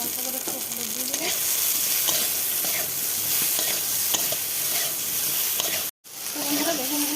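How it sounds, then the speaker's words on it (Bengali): Eggplant slices fry in hot oil, a loud, dense crackling sizzle that runs steadily with a brief cut near the end, while a voice talks faintly in the background. "বেগুনগুলো ভাজা হয়ে গেছে"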